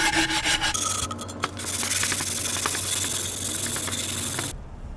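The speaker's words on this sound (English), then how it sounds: "smooth this edge down with a rubbing stone or a diamond rubbing pad like this" A rubbing stone grinds across a mitered ceramic tile edge, producing a steady, gritty scraping rasp of back-and-forth strokes close up that stops abruptly near the end.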